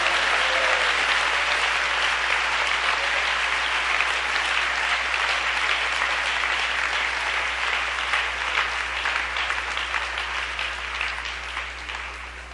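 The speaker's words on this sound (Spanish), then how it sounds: "Fuerte ese aplauso, y la gloria sea para el Señor." Sustained, loud applause from a church congregation rises and then thins slightly toward the end, with no speech over it.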